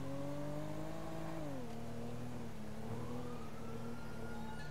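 Police siren in a roleplay driving video game, a steady wailing tone gliding between pitches under engine and traffic noise, continuous and moderately loud throughout.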